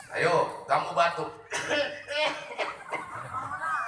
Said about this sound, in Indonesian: Ayo, kamu batuk.